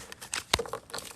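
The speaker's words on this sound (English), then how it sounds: "there's cards falling out." Cards slip and fall out of a pack with a brief papery crinkle and one sharper slap, quiet and close, lasting about a second.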